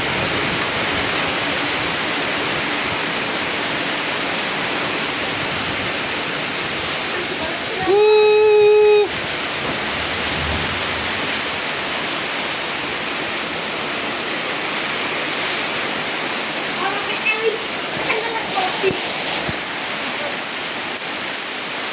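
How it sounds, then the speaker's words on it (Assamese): A heavy rainstorm pours down in a dense, unbroken roar of rain, loud and close, while a person speaks briefly now and then beneath it. "ধেমালি দৰে বৰষুণ পৰিছে মানে পতককে একদম অৱস্থা নহয় গৈছে"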